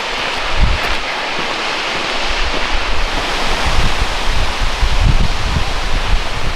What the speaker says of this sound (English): I never get tired of waterfalls.